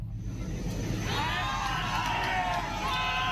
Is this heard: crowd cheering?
yes